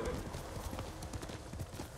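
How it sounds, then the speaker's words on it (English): Horse hooves in the video game Ghost of Tsushima clip-clopping at a quick, steady rhythm, close and continuous, with a faint background hum. "You're a good horse, Kage."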